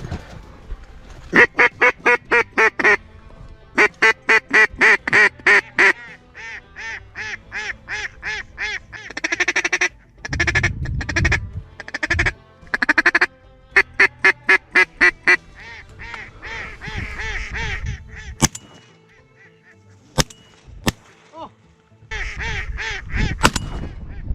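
Loud, close duck quacking during a duck hunt comes in rapid repeated series, broken by a few sharp bangs and pauses, with rustling in between.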